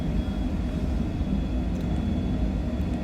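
A business jet's engines roar at takeoff power in a flight simulator departing Skavsta, a loud, steady, continuous rumble with no breaks.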